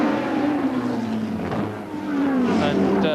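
1984 Thundersports racing cars, including a Lola Mazda and a front-engined Mallock, roar past at Brands Hatch in a loud, continuous engine sweep that dips briefly and swells again as more cars approach, with a commentator talking over it.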